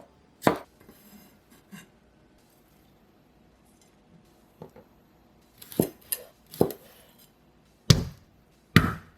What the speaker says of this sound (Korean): 빨간 청양고추도 일정한 두께로 송송 썰어 주시고요.